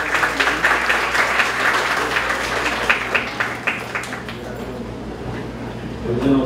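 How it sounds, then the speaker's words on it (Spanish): An audience at a tourism congress applauds an engineer being welcomed on stage, sustained crowd clapping that thins out toward the end as a voice begins over it. "Fuerte el aplauso."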